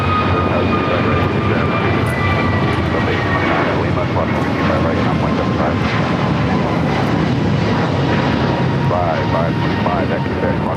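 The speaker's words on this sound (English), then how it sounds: "This takeoff is American Airlines 738 taking off to Philadelphia on the A321neo." An American Airlines A321neo roars down the runway on takeoff from LAX bound for Philadelphia, a loud, sustained broadband jet engine roar that fills the scene.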